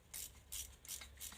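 A ratchet tightening a bolt on a Dnepr MT-9 motorcycle, four quick bursts of ratcheting clicks in a rapid rhythm, close but quiet.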